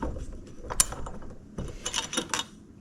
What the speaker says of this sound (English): I've just got a magnet and a socket to pull the keepers out as I press down on the spring.